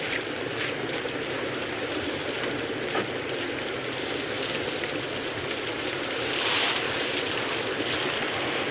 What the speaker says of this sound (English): the storm had broken, and the rain had begun to fall